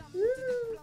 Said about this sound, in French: Regardez-moi ça. C'est un petit chat.